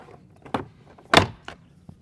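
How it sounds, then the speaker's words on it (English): A plastic trim tool pries back the plastic retaining clips on the front door panel of a Ford F-Series truck, giving a few scattered soft knocks and one louder sharp pop or thunk. "Use our trim tool to pry the plastic clips back."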